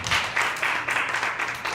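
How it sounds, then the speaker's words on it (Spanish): A congregation at a church service claps in a brief burst of applause, a dense patter of many hands rising and falling in quick waves. "Dale un aplauso fuerte."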